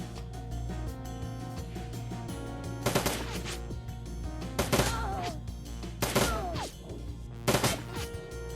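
Automated auto turrets fire repeatedly in Shadowrun: Dragonfall, with several sharp bursts of gunfire at an uneven pace over a steady game background hum, with no talking.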